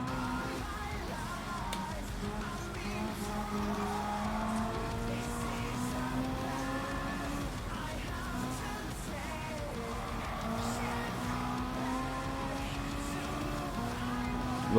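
Engine drone from a race car in Gran Turismo 7, a steady mid-pitched whine that rises and falls through gear changes and corners over a long continuous stretch, with a voice talking faintly over it.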